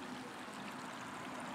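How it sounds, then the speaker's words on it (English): Creek water flowing near a violin maker's shop, a steady, even rush of running water close by with no breaks or voices. "This is the creek."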